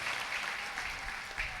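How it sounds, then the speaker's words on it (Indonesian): An audience at a lively religious lecture claps steadily for the whole stretch, a dense even applause heard at moderate distance. "Tepuk tangan buat orang Madura"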